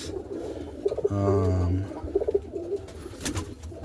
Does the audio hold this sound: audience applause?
no